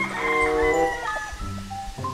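A lemon white gamefowl rooster with a straight comb and yellow legs crows loudly and close, one long harmonic call that breaks into shorter clucking notes, with no talk over it.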